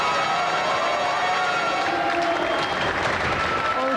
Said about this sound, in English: Round of applause for Mark.